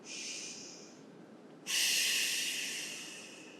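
Deep breathing during a chair Pilates stretch: a steady airy breath fades, then a sharper, louder breath rushes in and slowly trails off, close-miked and with no talking.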